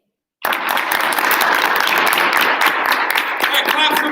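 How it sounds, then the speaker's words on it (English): Audience applause for both teams at a school debate breaks out abruptly after a moment of silence, then continues as dense, loud clapping to the end, with voices mixed in. "claps for both teams"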